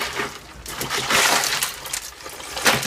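Cold water in an ice bath for chilling lobsters, splashing and sloshing with bright, irregular bursts of spatter and trickling, close and fairly loud.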